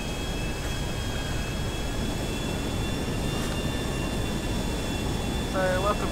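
An airplane flies in GTA V Online, its engine a steady, loud drone with thin whining tones held throughout and a brief voice-like sound near the end.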